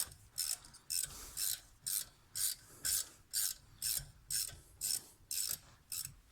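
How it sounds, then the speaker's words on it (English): Allen key turning loose the 7mm hex caliper bolts during a BMW front brake job gives a rhythmic series of about twelve close, bright ratcheting clicks in even bursts, quiet and with no talk over it. "loosen up these 7mm Allens back here"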